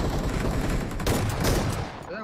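Rapid gunfire from a shooter video game, with bursts and single shots from weapons such as the S12K and AKM crackling loudly and almost nonstop, then tapering off near the end.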